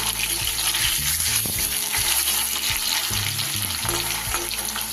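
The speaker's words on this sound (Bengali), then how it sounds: "আস্তে আস্তে করে হালকা আঁচে আমি এগুলোকে হালকা করে ভেজে নেব, খুব বেশি লাল করবো না।" Paneer cubes frying gently on low heat in a pan for butter paneer, giving a steady, even sizzle that runs unbroken throughout, with a faint tonal background underneath.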